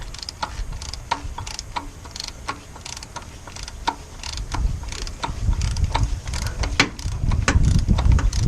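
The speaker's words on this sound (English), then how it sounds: "use a regular old 3/8 drive ratchet on it." A regular 3/8-inch drive ratchet works the oil drain plug loose on a 2012 third-generation Toyota Prius V, giving a rapid series of close, sharp clicking pawl ticks over low rumbling handling noise that grows louder toward the end.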